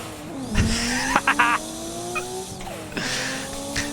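A 550 horsepower Nissan R32 GTR race car in Gran Turismo 7 roars close up around Trial Mountain, its engine pitch climbing and dropping through gear changes, with short tire squeals mixed in.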